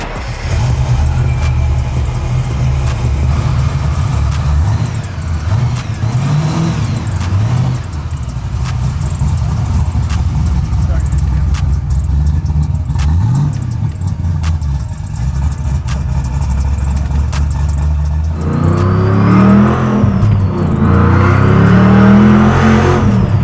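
A supercharged 700-wheel-horsepower SVT Mustang Cobra from the 1990s drives with a loud, continuous engine drone, rising and falling through gear changes, then revs harder near the end, no talk over it.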